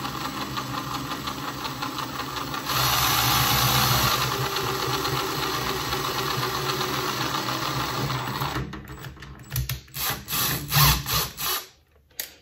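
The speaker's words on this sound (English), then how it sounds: "So if we take our drill, line it up dead center, and real slow," A power drill bores slowly through plexiglass into the wood behind it on an Arcade1up arcade cabinet, a loud steady whirring grind that rises in pitch midway, then breaks into uneven bursts as the bit stops and starts.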